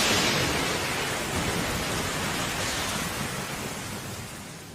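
Steady rain falls as a dense, hissing wash of sound with a faint low rumble underneath. It holds evenly and then fades slightly toward the end, with no voices.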